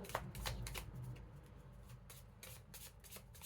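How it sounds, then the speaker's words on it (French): A deck of oracle cards being shuffled close up, soft riffling and rubbing bursts repeating in quick rhythm, fairly faint and heard alone. "on va prendre deux cartes de ce petit oracle."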